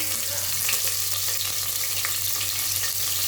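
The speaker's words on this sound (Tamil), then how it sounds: "பிரியாணிக்கு வெங்காயம் கோல்டன் கலரில் வதங்கினா நல்லாயிருக்கும்" Two large onions and green chillies frying in oil for vegetable biryani, an even, dense sizzle with a faint low hum underneath, close and steady with no voices.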